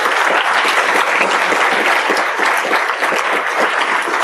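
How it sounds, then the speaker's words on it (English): A dense, sustained round of applause from a large audience for Catherine and Todd Stiefel and the Clergy Project, steady and loud throughout with no pause. "let's give Catherine and Todd Stiefel and the Clergy Project a big hand of applause."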